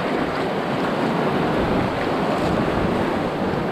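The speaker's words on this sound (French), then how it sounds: "à cause des vagues, bah ça fait ça en fait" Sea waves breaking where a river runs into the sea on a beach in Thailand, a loud, steady wash of surf and wind noise rushing on without a break and without voices.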